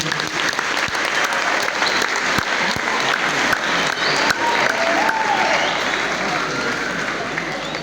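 Loud, sustained applause from a crowd at a school feast day celebration in Kinshasa, with sharp individual claps standing out and some voices mixed in.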